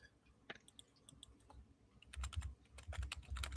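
A computer keyboard is typed on with scattered clicks, quiet and somewhat distant, with a low rumbling background growing louder toward the end.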